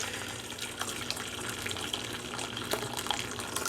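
Water poured from a container into a pan of chicken teriyaki sauce, giving a steady, close splashing stream that runs throughout at moderate level.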